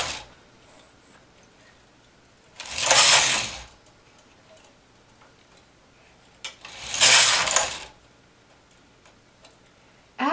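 A knitting machine carriage makes two loud whooshing, clattering passes across the needle bed during increase rows on a heart pillow, each lasting about a second, separated by quiet pauses.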